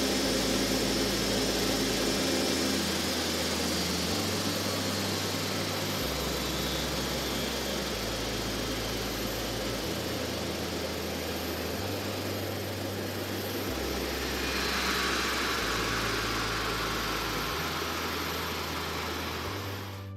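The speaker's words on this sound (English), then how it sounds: "during the engine shutdown sequence, you may hear a pressurized air noise" A LEAP 1B jet engine winds down during shutdown on an airport apron, giving a loud, steady rush of pressurized air over a low, pulsing hum that shifts in tone partway through, with no voices.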